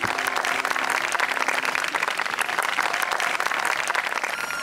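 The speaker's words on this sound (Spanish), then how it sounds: "este aplauso es para vosotros" Wedding guests break into sustained, dense applause that holds steady and loud from start to finish, filling the room with no voices standing out.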